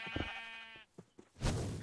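Sheep bleat in the video game Minecraft, a couple of short, wavering nasal calls close up, followed by brief soft game noises.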